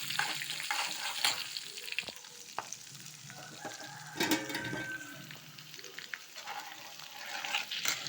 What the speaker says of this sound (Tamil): இப்போ இஞ்சி, பச்சை மிளகா இதையும் போட்டு நல்லா வதக்கிப்போம்.